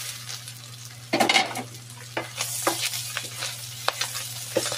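Kikiam fish balls sizzle and fry in a pan for pancit guisado, with a loud burst of stirring and scraping near the start followed by steady crackling and occasional utensil clinks.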